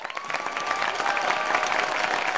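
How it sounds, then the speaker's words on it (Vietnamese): A studio audience on a Vietnamese TV singing show claps in a dense, continuous burst, bright and close, holding steady for the whole stretch with a faint crowd murmur underneath. "một tràng vỗ tay thưa quý vị"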